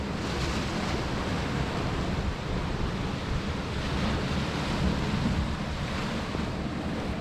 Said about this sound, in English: Now and again they come flying up, and the water splashes right into this cove right here.